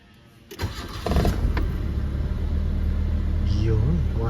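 A Nissan Sentra B14 car engine cranks briefly and catches, then settles into a steady idle rumble close by, while a voice speaks over it.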